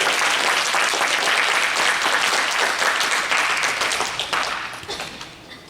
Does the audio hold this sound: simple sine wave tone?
no